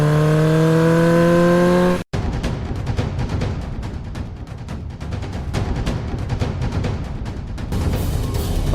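A motorcycle engine revs with a rising, tonal whine, then cuts to a loud, continuous rushing roar as it speeds off.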